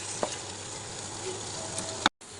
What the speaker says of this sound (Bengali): মশলার মধ্যে মাংসটা দিয়ে দিলাম। এখন মাংসটাকে ভালোভাবে কষিয়ে তারপরে আলু দিয়ে দিব।